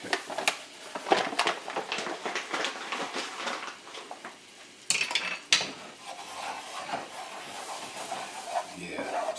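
Metal utensil scraping and clinking in a pan while flour is stirred into melted butter to make a roux, a series of close, irregular scrapes and taps with faint sizzling underneath and a voice talking over parts of it.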